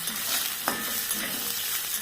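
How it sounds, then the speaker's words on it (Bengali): Cashews, green peas and raisins frying in a pan, a soft steady sizzle with a single scrape of a spoon stirring partway through. "এগুলোকে একটু ভাজা ভাজা করে নেব।"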